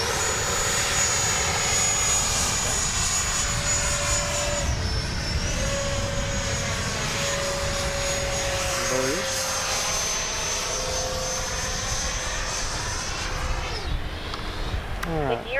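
A Freewing 90mm Eurofighter RC jet with its gear down flies past, its ducted-fan engine a loud, continuous whine that rises and falls in pitch as it passes, with steady roar throughout.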